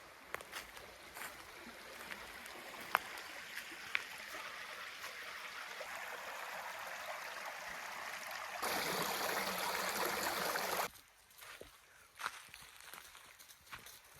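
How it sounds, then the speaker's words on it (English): Steady broadband rushing of flowing creek water, close by, swelling louder for a few seconds before settling back to a softer trickle with a few light knocks. "Look at this creek we have right in front of us."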